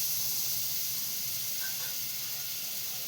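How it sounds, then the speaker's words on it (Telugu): Butter melting in a hot pan gives a steady, faint, even hiss of sizzling that holds throughout at low volume. "ఇదిగో బటర్ వేస్తున్నాను."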